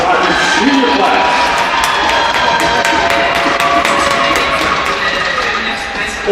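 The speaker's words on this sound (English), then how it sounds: "let's please give a round of applause for our 2022-23 Adrian College hockey senior class." A hockey arena crowd at a college senior night bursts into sustained applause and cheering, loud and dense throughout, with whoops and shouts mixed in.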